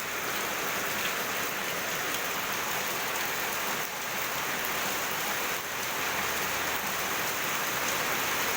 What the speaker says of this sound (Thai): ฝนตกแรงมากค่ะ